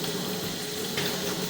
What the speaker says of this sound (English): So we're going to run the water for a while.